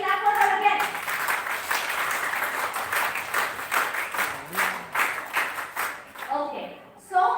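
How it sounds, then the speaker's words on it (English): Classroom of students clapping for a classmate, a burst of applause that settles into a rhythmic group clap before fading, with a teacher's voice coming in at the end. "So can you clap for her again?"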